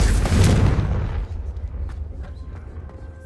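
Confringo fire spell in Hogwarts Legacy, a single loud, booming blast that rumbles and fades away over a couple of seconds, with no voices.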